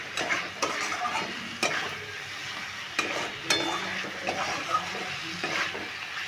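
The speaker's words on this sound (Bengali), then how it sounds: "আলুগুলো দিয়েও ভালো করে কষে নিচ্ছি" Fried potatoes are stir-fried in a pan for a pumpkin and prawn curry, a close sizzle broken by repeated sharp scrapes and knocks of the spoon against the pan at an irregular rhythm.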